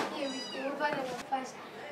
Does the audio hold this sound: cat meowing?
yes